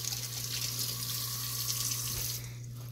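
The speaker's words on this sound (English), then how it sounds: "First, we have to get our hands washed." Hands washed under a running kitchen tap before cooking: a steady close rush of water for about two seconds, easing off at the end, with a faint hum beneath.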